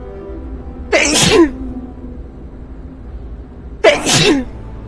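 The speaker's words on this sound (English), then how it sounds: "I'm gonna sneeze." Two loud sneezes, a few seconds apart, each a sharp sudden burst close to the listener, with quiet between them.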